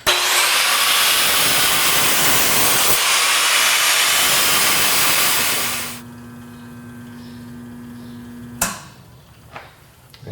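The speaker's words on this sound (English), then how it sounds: "You're just taking little bits off with the grinder," A handheld grinder takes small bits of metal off an engine's rotating assembly parts to balance them, a loud continuous hissing whine for several seconds that then cuts away to quieter workshop clatter.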